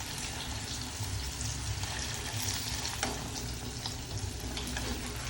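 Salted fish (ikan kelotok) fries in hot oil with a dense, even crackle and hiss that carries through the whole stretch, moderately close, with a few faint clicks and no voices.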